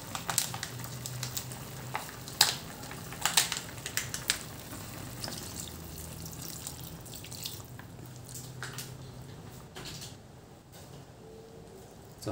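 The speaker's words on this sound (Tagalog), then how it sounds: "So lagyan natin ng suka." Vinegar poured into simmering pork-style adobo: a quiet liquid pour and soft sizzle with scattered sharp clicks and taps from the pot, fading toward the end.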